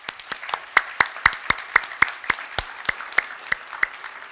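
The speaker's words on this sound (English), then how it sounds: "if we could give another round of applause to all of our generous donors and supporters" At a health science center ribbon cutting, the gathered crowd claps for donors and supporters, with a sparse, fairly rhythmic run of distinct close claps ringing out over a quieter background of other hands.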